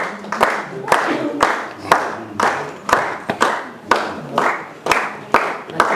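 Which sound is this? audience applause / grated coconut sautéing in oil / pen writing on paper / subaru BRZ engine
audience applause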